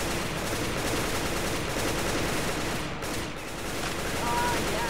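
Dense, continuous gunfire rattles at close range in a Roblox game while shooting at the stalker, with a brief dip midway before the steady barrage resumes.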